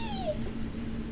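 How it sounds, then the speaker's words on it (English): A cat meows once, short and fairly weak, asking to be let out, the cry trailing off quickly indoors. "There's a weak meow."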